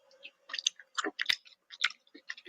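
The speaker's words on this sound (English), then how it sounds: "What are we munching on today?" Someone chewing food close to a microphone during a radio sports show, a quick series of soft wet smacks and crunchy clicks in short irregular bursts, fairly faint with no talking.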